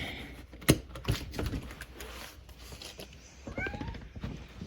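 Cats meowing outdoors at feeding time, a few short calls mixed with clatter and rustling close by, with occasional brief human sounds in the background.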